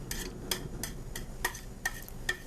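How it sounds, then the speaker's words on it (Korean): Carrots stir-fried over high heat in a small amount of oil for gimbap, with a spatula scraping and tossing the pan in regular soft strokes about every half second over a faint background hiss. "그래서 약간만 두르시고 당근을 볶아 주겠습니다"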